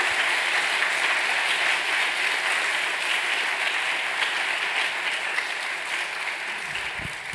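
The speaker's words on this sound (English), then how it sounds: "I would like to ask for a round of applause for our panelists." Sustained audience applause for conference panelists at a design event, a dense, steady wash of many hands clapping at even loudness throughout, tapering only slightly near the end.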